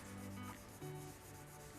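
A power sander rubs steadily against a PVC fence to remove graffiti, in a close, continuous abrasive hiss with a low motor hum underneath.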